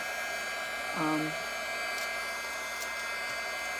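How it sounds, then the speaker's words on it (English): A heat embossing tool blows hot air over cardstock and puff paint, a steady, even electric whir that holds throughout with a faint rising tone near the start. "Stampin' Up! Does sell the heat tools for your embossing."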